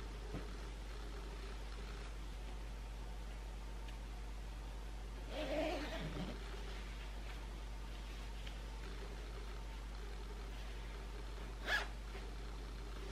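Low steady hum with a soft rustling zip sound in the middle and a brief sharp zip near the end as a white summer dress's zipper is pulled, faint and close.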